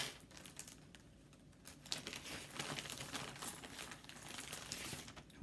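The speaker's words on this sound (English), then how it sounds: "Hopefully the crinkling of these bags isn't too bad." Plastic bags crinkle and rustle continuously close by during a cross stitch fabric showing, with soft irregular crackles through the whole stretch and no speech.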